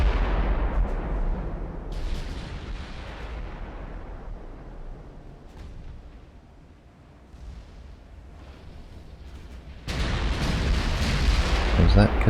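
Naval artillery fire in Ultimate Admiral: Dreadnoughts booms in heavy, rumbling salvos, loud and close. A strong blast opens the sequence and another arrives near the end, with sustained rolling thunder in between.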